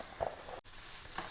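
Small fish fry in a pan, a soft, quiet sizzle with a couple of faint clinks and stirring bumps, heard alone without any voices.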